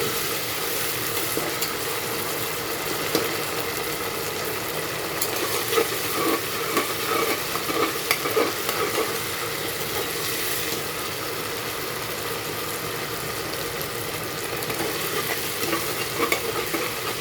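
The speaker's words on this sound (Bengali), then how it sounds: "এখন আমি এখানে আদা বাটা দিয়ে দিচ্ছি," Ginger paste frying in hot oil over onions browned with sugar for a chicken curry, with a steady, loud sizzle and repeated scraping stir strokes across the pan throughout, no voices.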